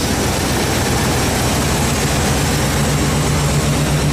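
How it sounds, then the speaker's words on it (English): A 1986 Chevy C10 pickup with dual exhaust idles nearby, a loud, steady engine with a deep, constant rumble and no talking over it. "My son loves the sound of the dual exhaust."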